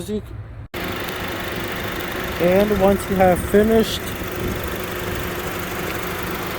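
A ninth-generation Honda Civic engine idles with a low, steady hum during an oil change. A person speaks briefly over it near the middle.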